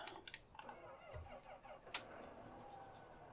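A tractor engine cranks and starts in Farming Simulator 17, a brief mechanical starter whir followed by a low idling rumble, with clicks and a sharp knock, faint and close.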